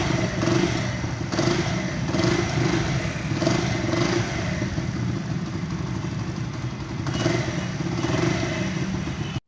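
A repaired motorcycle engine runs steadily and loudly close by, a continuous rough idle with periodic slight rises in revs and no talking, cutting off abruptly at the end.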